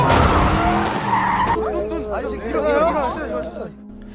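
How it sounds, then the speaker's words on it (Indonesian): Film sound of a car skidding with screeching tires and hitting a person, loud and sustained for about a second and a half, then giving way to busy chatter and voices over a low hum. "tiba-tiba ia ditabrak mobil"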